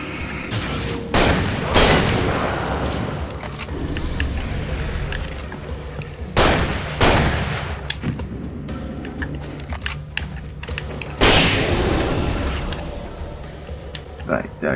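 In the video game Alan Wake, a flashbang and gunfire ring out as several sharp, loud bursts spaced across the stretch, with quieter rumbling and a voice talking between them.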